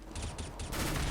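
P90 submachine gun bursts in the game CS:GO, a few short rapid volleys then one sustained stream of fire, loud and close with nobody talking.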